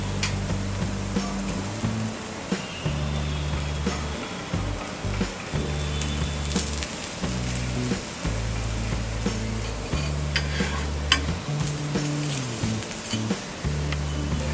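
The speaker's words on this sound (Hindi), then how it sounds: "दूसरी तरफ भी हम 2 मिनट तक कुक करेंगे और इस पर 1/2 टीस्पून ऑयल डालेंगे।" Ragi finger millet paratha cooks on an oiled pan with a continuous close sizzle and frying crackle, while low rhythmic knocks and scraping repeat throughout, with no talking.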